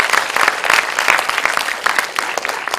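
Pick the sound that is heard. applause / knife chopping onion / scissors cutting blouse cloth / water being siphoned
applause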